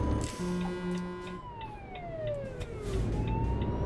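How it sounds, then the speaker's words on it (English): A police car siren in the Euro Truck Simulator 2 game sweeps up and down in a loud, continuous wail over a low engine drone. "that's the sound of the Polizei."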